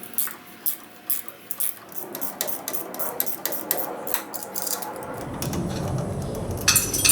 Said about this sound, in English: 15mm wrench and socket to get that off